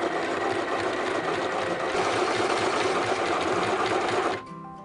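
A small mini sewing machine run from a foot pedal to wind a bobbin, giving a steady, loud motorized whir close up that stops abruptly near the end, leaving a faint mechanical rattle.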